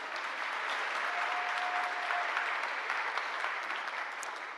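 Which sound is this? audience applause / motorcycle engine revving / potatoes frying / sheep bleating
audience applause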